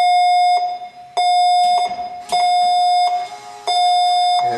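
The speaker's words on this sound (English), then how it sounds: "You'll notice that I'm getting the alarm that the door was obstructed." A tall glass washer sounds its door-obstructed alarm: loud, close electronic beeps repeating in a steady on-off pattern, each tone held about a second with brief gaps, no voices.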